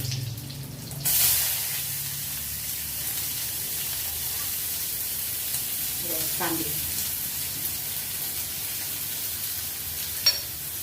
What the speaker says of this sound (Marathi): मी लाल टाकणार आहे म्हणून कढीपत्ता कांदे टाकून